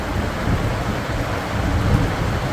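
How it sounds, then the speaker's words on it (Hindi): Heavy monsoon rain pours down outside a house in the hills, producing a dense, steady roar. A low rumble that may be thunder sits underneath, with no voices heard. "इतनी भयंकर बारिश बाहर लग रही है"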